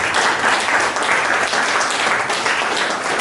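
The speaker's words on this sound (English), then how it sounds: "So please let's give Prof a round of applause." An academic audience at a quantum probability conference at the University of Ibadan applauds a professor, giving loud, sustained and uniform clapping that fills the whole span without pause or talking.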